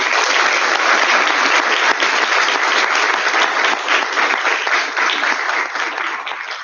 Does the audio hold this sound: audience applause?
yes